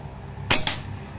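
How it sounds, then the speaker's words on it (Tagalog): An airsoft gun with a DBB barrel fires its fifth shot, firing local pellets: one sharp, loud crack followed by a brief second burst, over a quiet background. "Panglimang putok."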